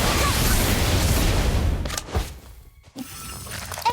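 A Confringo blasting spell goes off in the mobile game Harry Potter Magic Awakened: a loud, dense, sustained burst of explosive crackle and rumble, then a brief quieter gap with a few sharp thuds.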